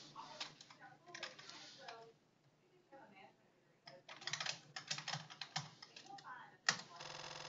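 Bursts of quick clicking keystrokes on a computer keyboard, typing an address into a resume document, in uneven runs with short pauses and a sharper key hit near the end.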